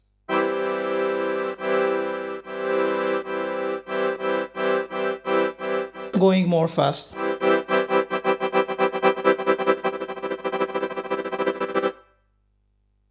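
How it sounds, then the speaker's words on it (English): Bellow-shake tremolo played on a KORG Fisa Suprema digital accordion: sustained reedy chords pulse in rapid, even bursts that speed up, a brief noisy clatter midway, then a faster shimmering tremolo before stopping. A voice briefly speaks. "when you try to make a bellow shake, bellow tremolo, you can hear the reed difference and the reed vibrations"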